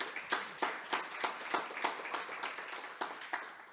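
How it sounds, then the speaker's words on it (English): Quiet, sparse applause from a small audience at a gender equality dialogue, a few distinct hand claps landing in a loose, regular rhythm, faint and somewhat distant. "So give yourselves a round of applause for the dialogue today."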